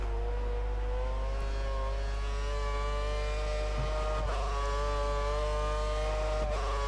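Lotus Formula 1 car engine in F1 2013 at the Italy round, a loud continuous high-pitched whine rising steadily as it accelerates, heard alone with brief bumps over curbs.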